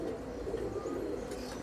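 A Pakistani Teddy pigeon coos softly and steadily at close range, a low rounded murmur with no voices.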